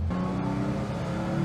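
A fully restored 1974 Porsche with a 3-liter six-cylinder engine revs briefly, a strong, close engine note that rises in pitch, steady and loud, with no voices.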